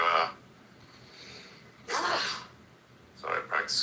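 Someone theatrically imitates a dad's sneeze in a podcast studio, a burst at the start, a louder sneeze in the middle and a final sputtering sneeze, all close to the mic.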